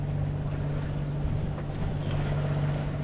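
A sailboat motors into a headwind after leaving La Gomera, its engine a steady low hum under constant wind rush on the microphone, with no voices.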